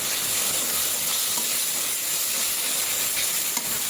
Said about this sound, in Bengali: মশলাটাও কষা হয়েছে, এখন চিংড়ি মাছগুলো দিয়ে কষিয়ে নেব।